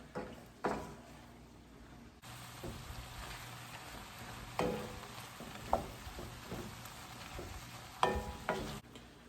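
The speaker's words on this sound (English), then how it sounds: "It's already starting to smell really good. Onions cooking and everything, and the ham." Onions and ham frying in a pan with paprika give a steady low sizzle, broken by a few sharp stirring scrapes and clacks of a utensil against the pan.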